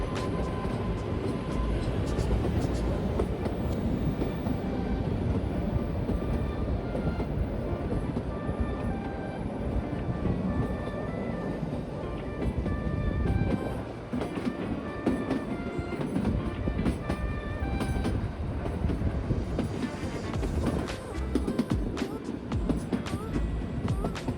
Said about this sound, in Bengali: কালকা থেকে সিমলা অনেকগুলোই টয় ট্রেন আছে